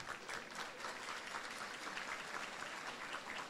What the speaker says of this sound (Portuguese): É maravilhoso. Uma salva de palmas.